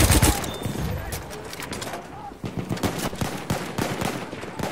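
Machine gun fire in the game Battlefield 1, a close loud burst at the start followed by rapid, rhythmic gunshots and distant fusillade, with voices shouting over the battle.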